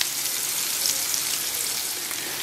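Bacon and onions fry in a cast iron pan with a steady, dense sizzle that holds evenly throughout, close and fairly loud with no voices.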